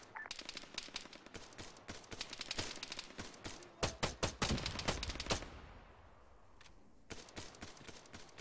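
Machine-gun fire in the military shooter Arma 3, rapid automatic bursts of sharp cracks in several strings, loudest and densest midway, then pausing before more scattered shots, somewhat distant and faint.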